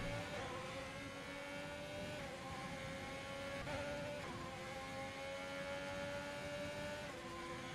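Race car engine in F1 2020 racing game, a high sustained whine with shifting harmonics held steady throughout as one car carries speed past another, loud and continuous with no talk.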